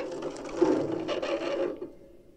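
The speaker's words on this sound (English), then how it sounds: "A screw! I might be able to pry it loose with my hands." A screw being pried loose in a mobile puzzle game on Android, heard as a brief mechanical ratcheting, grinding rattle at moderate level, fading out after about two seconds.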